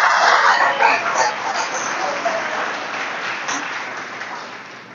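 A church congregation applauds during a sermon, a burst of clapping mixed with scattered voices and cheers that starts fairly loud and gradually fades over several seconds.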